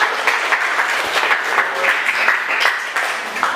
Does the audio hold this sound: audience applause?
yes